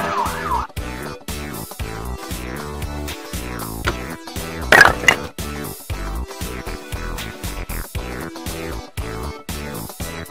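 Fire engine siren sound effect from a children's vehicle puzzle, a steady wailing tone over a busy musical backing with one louder burst midway.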